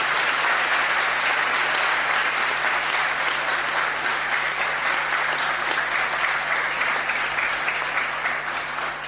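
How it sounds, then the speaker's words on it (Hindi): An audience at a religious gathering gives loud, continuous applause to welcome a man onto the stage, a dense, even wash of clapping that lasts about nine seconds with no pause. "जोरदार तालियों से"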